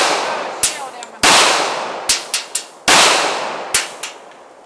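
Gunshots from handguns at a morning shooting practice, likely .357, .45 ACP or .22 LR: two loud, sharp cracks with long ringing decay, plus several quicker, quieter shots in between.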